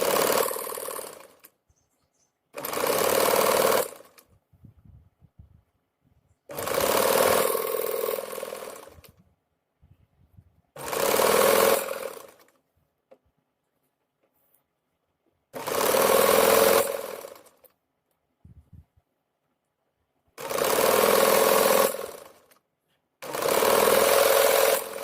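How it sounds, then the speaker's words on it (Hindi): Sewing machine stitching palazzo trouser panels together, running in seven loud, close bursts of rapid mechanical chatter lasting a couple of seconds each, separated by quiet pauses with faint handling noises. "सबसे पहले हमें आसन में सिलाई लगानी है।"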